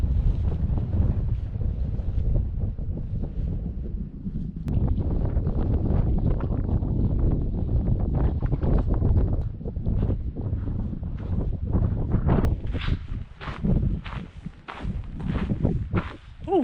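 Strong wind buffets the microphone on the exposed Pikes Peak hiking trail in Colorado, a continuous low roar with occasional footsteps and gear rustle nearby.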